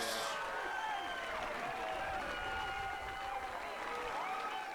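A hometown crowd at an ISC fastpitch softball game between Hill United Chiefs and Kitchener Hallman Twins cheers and applauds a three-run home run, a sustained, fairly distant roar with a commentator talking over it.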